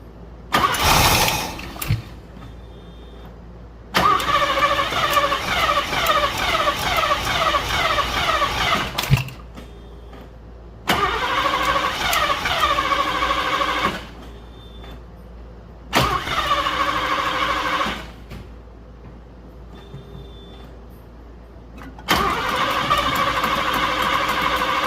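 A 1976 Mercedes 450 SL engine cranks over on the starter in four long, loud bursts of rapid rhythmic churning, each cut off by silence, without catching into a run.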